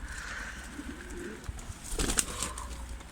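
Pigeons coo softly and steadily as a male chases a female, a low murmuring call with a brief flutter of sharper noise near the end.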